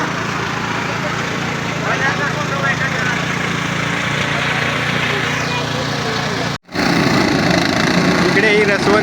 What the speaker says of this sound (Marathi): इकडे ही रसवंतीच्या मशीनचा आवाज खूप आहे